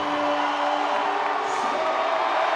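A strongman event crowd cheers and whoops for a showman doing extra reps in the Austrian Oak log press at the 2023 Arnold Strongman Classic, a dense, sustained roar of voices with a tonal bellow early on.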